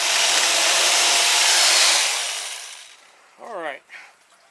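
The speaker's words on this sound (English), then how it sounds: "you take your jigsaw blade and cut it out" A jigsaw blade saws out a shape with a steady, loud, rasping buzz that fades after about two seconds, followed by someone speaking briefly.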